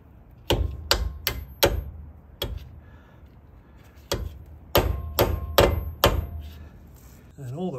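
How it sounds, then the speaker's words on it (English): Sharp metallic hammer blows from a small, undersized hammer driving a pin on a Porsche Boxster 986 brake during a brake job, struck in two quick bursts of four or five close, loud taps separated by a pause. "Might need a bit of persuasion with my undersized hammer."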